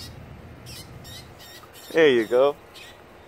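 A wild bird at the shore calls twice in quick, loud harmonic bursts close by, after a stretch of quiet background with a few faint chirps and a brief spoken phrase.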